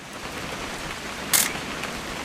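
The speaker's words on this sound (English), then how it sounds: "It's gonna rain the whole weekend, isn't it?" Steady rain falling in the video game What Remains of Edith Finch, a constant hiss with one brief brighter splash or rattle partway through, no voices.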